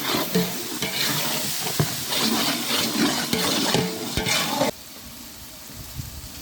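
Tomatoes dropped into frying onions and chili powder for a large batch of Dindigul-style chicken biryani, a loud continuous sizzle with stirring scrapes that suddenly quiets near the end.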